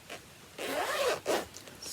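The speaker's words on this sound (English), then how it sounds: "Sorry, zipper noise." Zipper on a vintage stitching bag pulled close by in two short strokes, a longer rasping zip followed by a quicker one, loud in a quiet room.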